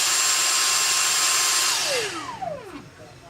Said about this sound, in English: This is a Dyson V6.